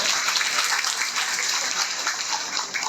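An audience at a public event applauds vigorously to welcome a senior leader, a dense, steady patter of many hands clapping at once, fairly close and without pause.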